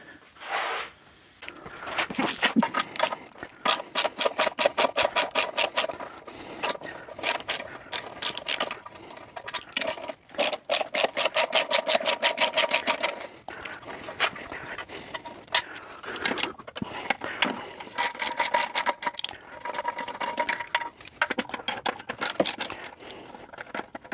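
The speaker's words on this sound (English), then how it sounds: "That was a 3/8 wrench that it took to get that off." A 3/8 wrench turns out screws on a Craftsman Briggs & Stratton push mower, giving dense, continuous ratcheting clicks in quick bursts, close and fairly loud, with brief pauses between runs.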